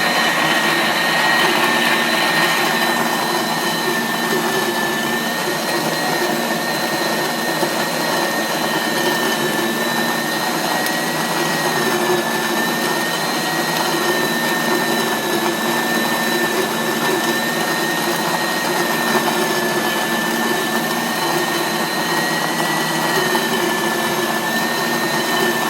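A KitchenAid flour mill attachment grinds grain into fine powder, making a loud, steady mechanical whine with a constant motor drone that runs unbroken throughout.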